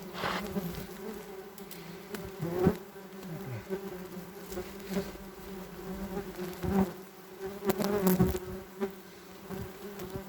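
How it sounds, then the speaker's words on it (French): Many wasps buzz steadily around large nests in an attic, a dense continuous hum with individual insects swelling louder as they pass close by. "100 guêpes, 200 qui sont à l'extérieur et qui sont en train d'essayer de protéger leur nid."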